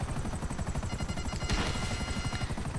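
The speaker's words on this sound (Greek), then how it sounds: "σπάνιες φορές βρίσκω αυτό το ελικόπτερο" Video game helicopter with a steady, rapid rotor chop that pulses evenly throughout, close and prominent, with a brief burst of brighter noise midway.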